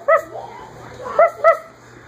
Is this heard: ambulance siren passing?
no